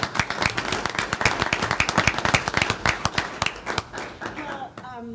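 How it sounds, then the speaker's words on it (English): Attendees at a water district board of directors meeting clapping in a brisk, dense burst of hand claps that tapers off, with voices murmuring underneath and a voice starting at the end. "Get a hand of applause for the Tates"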